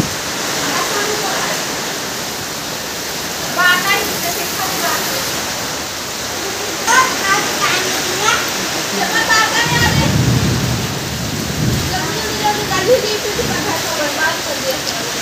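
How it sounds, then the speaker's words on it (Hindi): Floodwater pours into a house through the doorway in a constant rushing, splashing roar, with someone talking over it at close range and the water louder in some moments. "ये देखो पानी पूरा घर में घुस जा रहा है, पूरा दरवाजा से देखो तो पानी कैसे घुस रहा है।"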